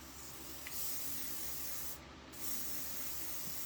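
Spray paint hisses from an aerosol can in two long continuous bursts, steady and close, with a brief pause between them and no voices.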